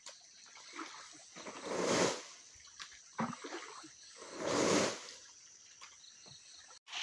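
Water is poured onto a floor in two swelling, splashing bursts, each rising and fading over a few seconds. The setting is a home in Chiplun, Konkan, with quiet pauses between pours.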